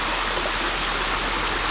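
Creek water flows at Pedernales Falls, a steady broadband rush and gurgle heard close and alone, with no talking.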